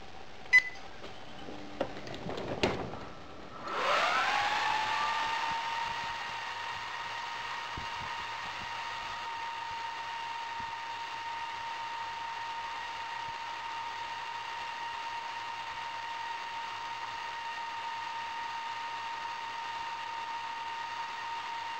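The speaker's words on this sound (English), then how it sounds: "This is the first experiment with induction furnace to see" A homemade induction furnace built from microwave oven parts heats a crucible, starting with a few clicks and then a steady electrical whine that slides up in pitch and settles into a constant hum, continuing unbroken.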